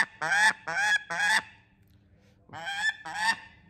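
A shaheen falcon giving loud, close, harsh calls, three quick cries in a row, a short pause, then two more, with no talk over them.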